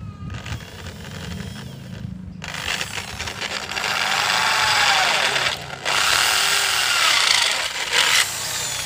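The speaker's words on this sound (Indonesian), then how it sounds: "Jadi kalau menggunakan bor stand gini atau drill stand itu lebih mudah." A drill press whirs steadily as it bores into material, with short pauses and a brief grinding rub between bursts.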